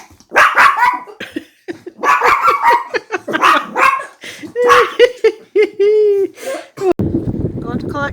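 A pet dog, a female, barks and yips a few times indoors at home around mealtime, the short barks coming between and under people talking nearby.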